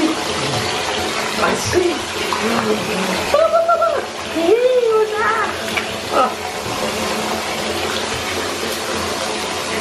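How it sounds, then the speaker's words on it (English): Water runs and splashes into a bath for a pug puppy, a steady hissing flow with sloshing, while people talk over it and a small whine or yelp breaks through briefly. "So we're gonna give him a nice deep bath because we normally just put up to his knees"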